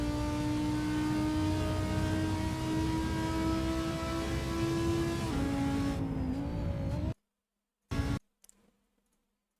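An Audi R8 GT4 races at Silverstone in the video game Assetto Corsa, its engine holding a steady high whine down a straight before the pitch drops sharply under braking, then brief silence and a few short bursts.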